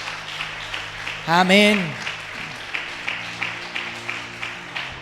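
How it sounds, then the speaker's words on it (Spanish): Church congregation at a Spanish-language service breaks into applause, steady clapping running under a brief shouted vocal exclamation and continuing at a moderate level with rhythmic pulses. "¿Cuántos le dan un aplauso al Señor?"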